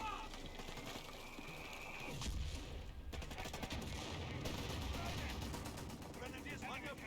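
Artillery fire in the video game Company of Heroes 3, a dense mix of booming impacts and crackling gunfire that swells in the middle, with low rumbles rolling under the battle noise throughout.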